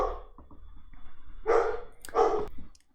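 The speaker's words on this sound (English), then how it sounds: "sorry about the dog" A dog barks indoors, two loud close barks after some softer whimpering yips, with a quiet room in the background.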